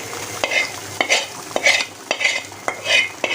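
A spoon stirs homemade tomato sauce with onion, garlic and soy sauce into chicken cooking in a pan, giving repeated close scraping strokes in a steady rhythm over a low sizzle.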